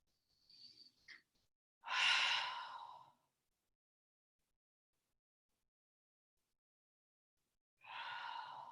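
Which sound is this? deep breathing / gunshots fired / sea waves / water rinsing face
deep breathing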